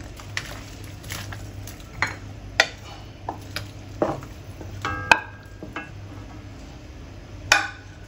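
Ingredients for Singapore laksa go into a pot of boiling water, giving scattered clinks and knocks of utensils against cookware at a sparse, irregular pace over a quiet kitchen background.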